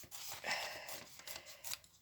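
Scissors snip through a paper template in a short run of quiet, close crisp cuts, several quick blade closings over about two seconds with no talking.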